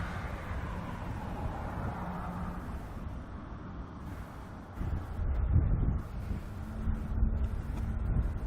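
Wind buffeting a camera microphone outdoors at an airport, a continuous low rumbling roar that swells louder in gusts during the second half.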